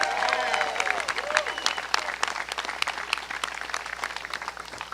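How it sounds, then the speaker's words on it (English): A crowd at a political speech breaks into applause, dense clapping with a few cheers and whistles early, then tapering slightly while staying steady to the end. "Give them a round of applause."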